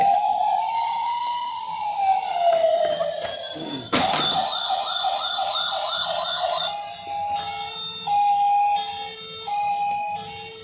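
A battery-powered toy police car plays an electronic siren, starting with a rising and falling wail, then switching to a fast warbling yelp and a beeping two-tone pattern, loud and close throughout.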